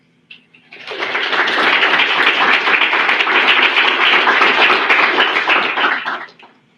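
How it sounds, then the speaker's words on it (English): A round of applause at a dietetic internship white coat ceremony, honoring family, friends and faculty; after a brief single clap, dense even clapping swells in, holds steadily for about five seconds, then fades out. "give thanks to them for their support with a round of applause"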